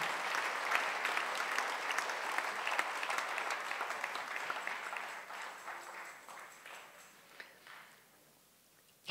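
A church congregation claps together in a dense, sustained round of applause that gradually thins and fades toward the end, with no voices over it.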